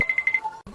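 A phone ringtone chirps in the house: a quick series of bright repeated beeps, then a short pause and a lower tone before it cuts off.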